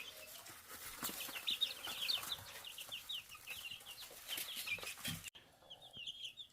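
Baby chicks on their first night in a coop, peeping steadily in high, rapid chirps that run continuously, fairly close, with some rustling and a brief drop near the end before the peeping resumes more faintly.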